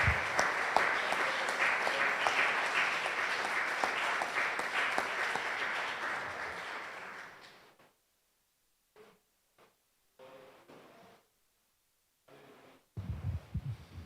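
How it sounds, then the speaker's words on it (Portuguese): A church congregation at a worship service applauds in a loud, sustained burst of many hands for several seconds, then it fades to silence broken by scattered small knocks and rustles. "Pode aplaudir Jesus."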